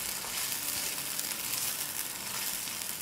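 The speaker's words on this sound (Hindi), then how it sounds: "ये बबल कर रहा है, ये देखिए।" Spiced masala for mutton chops, with a splash of lemon juice, bubbles and sizzles steadily in a hot pan, a dense continuous frying hiss with no voices over it.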